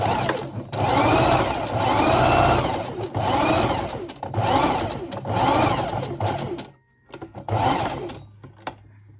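Sewing machine top stitching a sleeve hem to form an elastic channel on a bridesmaid dress, running in several loud bursts of rapid stitching separated by brief pauses, with a short stop near the end before it resumes.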